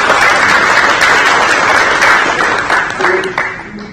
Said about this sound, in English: existing employees, partners, round of applause for being